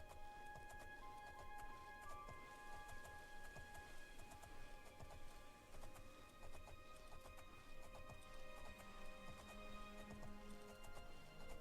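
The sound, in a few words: horse hooves galloping in video game Oblivion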